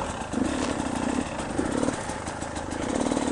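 A 2017 Beta 300RR two-stroke dirt bike engine lugs at low revs in first gear, a steady close, loud rumbling drone that runs throughout with slight throttle swells and no talking.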